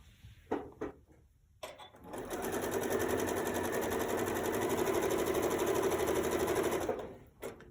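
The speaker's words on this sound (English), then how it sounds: "sew along that seam there" Sewing machine stitching a quilt seam on a triangle corner, a few handling clicks, then a close, fast, even motor whir that runs steadily and stops.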